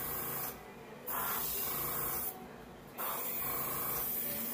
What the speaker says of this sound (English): I'm going to use my airbrush